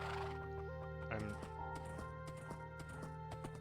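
A horse in the Minecraft video game gives a whinny over light, tapping hoofbeats, quiet and steady, with sustained musical tones running underneath.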